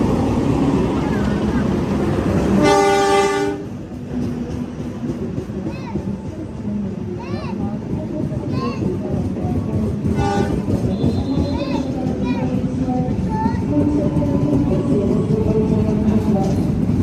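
An additional Gajayana passenger train overtakes a stationary Motis Tengah train, with a loud, steady rail rumble throughout and a brief horn-like blast early on, heard close by.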